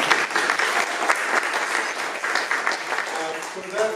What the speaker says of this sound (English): So give another round of applause to the students.